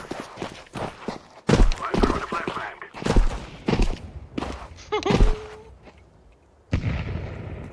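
Grenades and gunfire in Counter-Strike 2, sharp bursts of shots and sudden loud blasts arriving in clusters with brief gaps between them, close and punchy, with no talking.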